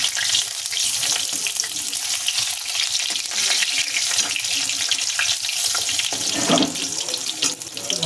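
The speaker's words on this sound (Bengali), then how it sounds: "কড়া করে করে ভেজে তুলে নেব" Continuous crackling and bubbling of oil as raw banana fritters deep-fry, loud and close, running the whole time without pause.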